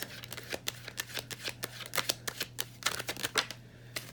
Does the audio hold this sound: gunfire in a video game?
no